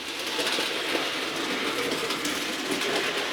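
A model train runs over Peco points in a fiddle yard with a faint, even rolling rumble that continues without a break.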